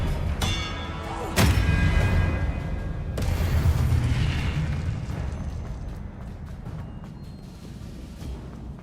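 Confringo fire-blast spell in the video game Hogwarts Legacy, a sharp loud crack followed by a heavy rumbling boom and a second impact, then a long fading roar.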